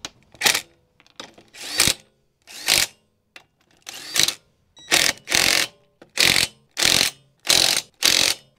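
A ratchet wrench tightens suspension bolts on a Peugeot 308 GTi, a series of close, crisp ratcheting clicks in short repeated strokes, sparse at first then quickening into a regular rhythm.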